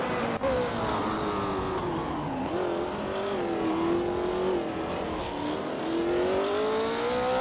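A 1966 McLaren M1B race car in a racing video game, its engine droning steadily with rising and falling pitch as it runs on, loud and continuous with no talk.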